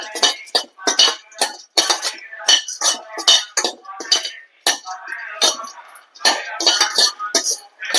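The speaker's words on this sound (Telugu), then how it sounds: "ఇప్పుడు ఇందులోనే కాజు వేసుకోవాలి." Cashews tossed into a pan of hot oil for a homemade dry fruits laddu, giving a busy run of close metallic clinks and scraping from utensils against the pan, with brief pauses between bursts.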